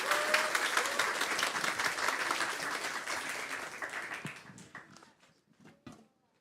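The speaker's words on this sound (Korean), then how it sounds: "박수." Applause from a church congregation welcoming an elderly deacon to give a testimony after completing discipleship training, steady clapping that tapers off and fades out over the final seconds.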